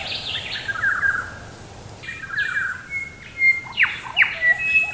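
Outdoor bird calls of a noisy friarbird: harsh, scratchy notes with sharp whistled bits, growing louder and more frequent toward the end over a soft background hiss.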